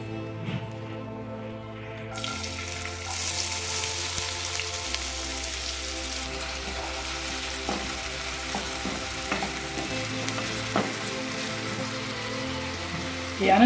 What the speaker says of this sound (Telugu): ఈ ఆనియన్స్ వేసేద్దాం ఇప్పుడు.